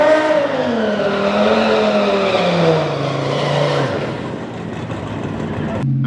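An Audi RS3 runs hard down a drag strip in hot, heat-soaked conditions, its engine note climbing steadily through the gears with a roaring, loud, continuous pull and a brief shift dip near the end.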